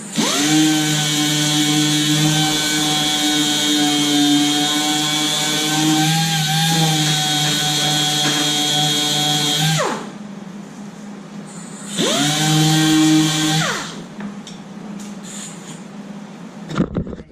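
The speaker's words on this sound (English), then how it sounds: "So, finish this off, what we do is grab a sander." A power sander works over a veneered table, its loud steady motor whine running about ten seconds, stopping, then starting again briefly before winding down, with some handling noise after.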